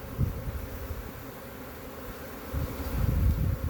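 Honey bees swarm around hive boxes, their dense, close buzzing droning steadily and swelling louder toward the end, with no voices.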